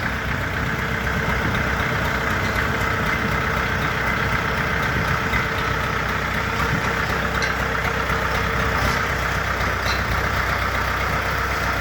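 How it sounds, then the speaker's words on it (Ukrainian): The water-cooled four-cylinder diesel engine of a Jinma 404 mini tractor idles steadily and continuously, a low, even rumble with a mechanical chug, close by and unchanging throughout. "Чотирьохциліндровий дизельний двигун водяного охолодження, два насоси гідравліки."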